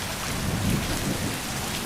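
Steady rain falls outdoors, a dense, even hiss of drops with no voices over it.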